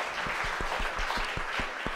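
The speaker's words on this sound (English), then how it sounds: "let's give him a round of applause" A small audience at a book talk claps in a faint, distant round of applause, with individual hand claps landing in a loose, fairly regular rhythm.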